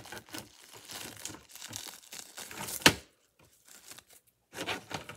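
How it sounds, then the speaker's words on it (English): Non-scissor cutting tool slicing and tearing through material in rough crinkly bursts, with one sharp loud snip near the middle, a brief quiet gap, then more cutting, heard up close. "I don't have regular scissors because my kids ran off with mine, but I'm going to cut away"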